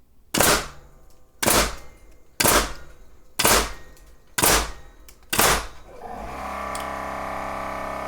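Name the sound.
nail gun firing 8-penny nails, Milwaukee M18 Fuel compressor kicking on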